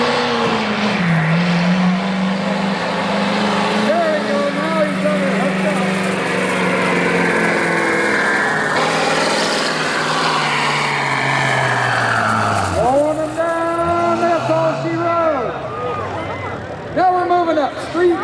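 A street-modified diesel pickup with bigger turbos, boost and injectors roars through a truck pull at an agricultural fair, a loud sustained engine drone rising and falling, with an announcer talking over it.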